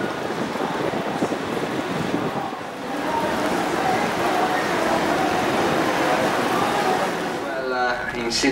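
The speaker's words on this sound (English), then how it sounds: "Okay, that's a bit windy." Steady wind gusting across the open deck of the cruise ship Pacific Explorer in Sydney Cove, a constant broadband rush with a faint tonal squeal near the end.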